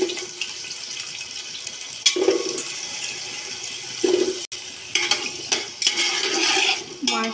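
Potatoes go into a frying pan for vegetable biryani, bringing bursts of loud sizzling and clattering pan and utensil sounds between quieter stretches, close up, with no speech.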